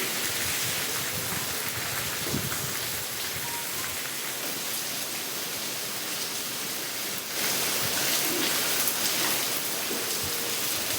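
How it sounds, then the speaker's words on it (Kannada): Heavy rain falls steadily in Karnataka, a dense, continuous close-up roar with scattered drops spattering on surfaces, loud and unbroken for the whole stretch, growing slightly fuller near the end, with no voices. "ಈಗಾಗಲೇ ಈ ವರ್ಷದ ಮೊದಲ ಮಳೆ ಎಲ್ಲ ಜಿಲ್ಲೆಗಳಲ್ಲೂ ಕೂಡ ಆಗ್ತಾ ಇರೋದು"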